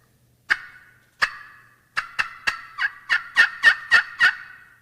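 Wild turkey gobbling in answer to a pot call: about ten sharp, loud gobbles heard alone, the first few spaced apart and then coming faster in an insistent run.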